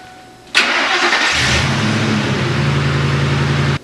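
A Ford F-150 pickup engine cranks and fires in a garage, a sudden loud start that settles into a steady, close, rumbling idle before cutting off.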